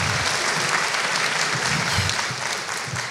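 An audience at a university chemistry graduation ceremony applauds, a dense, even clapping from many hands that carries steadily throughout, close and fairly loud with no voices on top.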